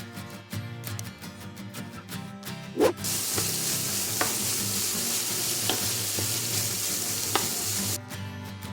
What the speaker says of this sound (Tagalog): Painitin lang natin ang non-stick pan at ilagay ang shredded chicken